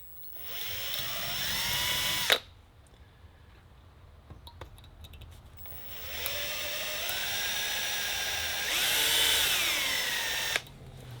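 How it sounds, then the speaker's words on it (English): A drill bores a pilot hole into a broken exhaust stud in a cylinder head, freehand: two sustained whining runs of a couple of seconds each and several seconds long, with a quiet gap of small clicks between them, close and fairly loud. "we'll start our pilot hole first"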